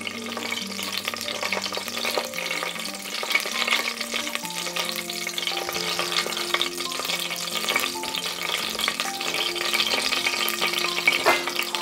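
Whole spices, including cinnamon, cardamom, star anise, cloves and bay leaves, fry in hot oil for tomato rice, giving a steady close sizzle with occasional stirring scrapes and no talk.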